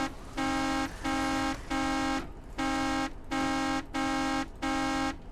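The horn of a Vodnik armored vehicle in ARMA 2 beeps six times in a steady, even rhythm, each long buzzing honk loud and clear with short gaps between.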